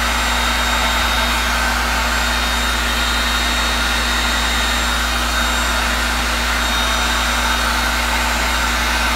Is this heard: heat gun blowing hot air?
yes